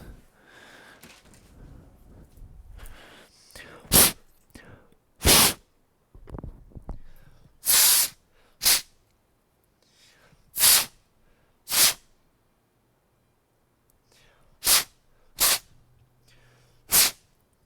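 Someone blows hard by mouth to clear dust from an HP 15-bc309nf gaming laptop by an open window, giving about ten sharp, loud bursts of breath in irregular spacing, with some soft rustling and handling between them.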